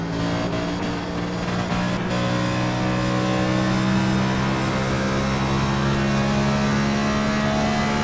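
Next Gen stock car at Homestead in a racing game, heard onboard: a loud, steady engine roar holding high revs throughout, close and continuous with no talk.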